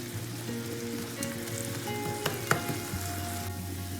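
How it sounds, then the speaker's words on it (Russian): Sauerkraut stews with a lid on in a pan, giving a soft continuous sizzle and light bubbling with a few small pops and a faint clink, with nobody speaking. "Капусту накрываем крышкой и тушим до готовности"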